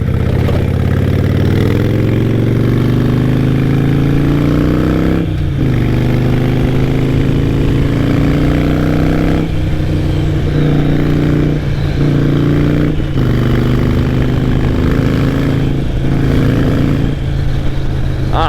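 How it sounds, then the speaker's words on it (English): A motorcycle engine runs at a steady idle close by, a loud, continuous low exhaust rumble with slight pitch shifts and brief dips, with no one talking over it. "this motorcycle, you will hear it. And I guarantee you all the neighbors hear it"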